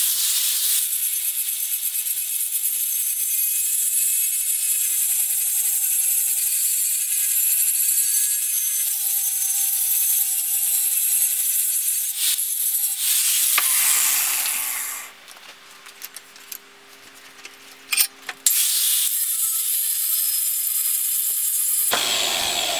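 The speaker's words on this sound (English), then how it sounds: "Now to take it to the angle grinder and take off all the scale." An angle grinder strips scale from a Damascus steel knife blade, giving a loud, steady, hissing whine that runs for about fifteen seconds, then a quieter stretch of scattered knocks before the grinding returns.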